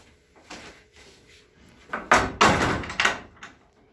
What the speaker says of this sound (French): Quand l'ami a fermé la porte,